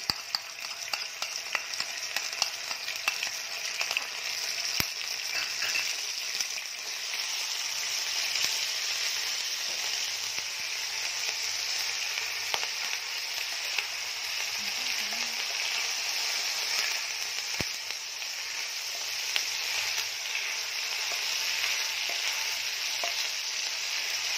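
Garlic chili paste fries in a pan for butter paneer masala, giving a loud, continuous close-up sizzle with stirring scrapes and a couple of sharp clicks.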